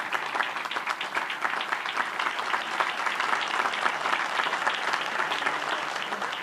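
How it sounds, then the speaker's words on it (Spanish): Sustained applause from a large audience follows the signing by Colombian president Gustavo Petro of the national development plan bill, steady and evenly loud across the whole stretch with no pause. "Un fuerte aplauso, por favor."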